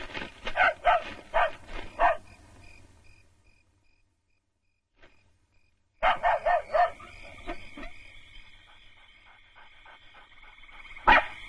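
A dog barks in quick bursts, falls silent for a few seconds, then barks again in a rapid series, close and fairly loud.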